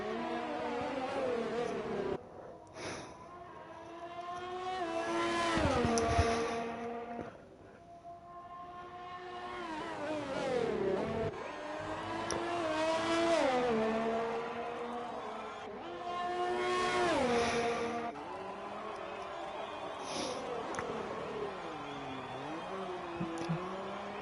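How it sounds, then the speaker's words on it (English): Formula 3 race cars running on a Canadian circuit, engines rising and falling in pitch as cars pass one after another, loud and continuous with a few swelling passes, with no talk. "Both Ferrari teammates on the track as we speak right now."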